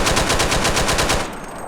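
Rapid automatic machine gun fire in GTA San Andreas, a fast even burst of loud close shots that stops abruptly near the end.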